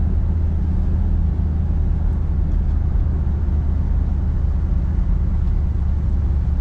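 A 1966 Chevrolet Impala Convertible engine rumbles steadily while driving on dry roads, a constant low drone with road noise and no speech.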